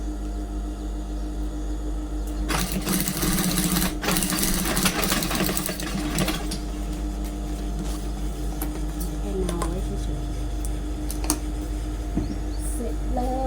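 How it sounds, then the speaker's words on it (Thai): A sewing machine stitches the opening of a handmade bag, a steady mechanical whir running loud from about two to six seconds, then continuing more quietly with small clicks under a constant background hum. "แล้วก็มาเย็บปากกระเป๋า"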